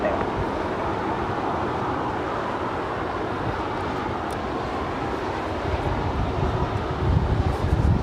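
A jet airliner takes off from runway 25 right at Los Angeles International Airport, a steady, loud broadband engine roar that swells slightly toward the end.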